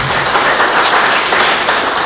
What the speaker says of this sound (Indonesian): Berikan sorak-sorai buat dia.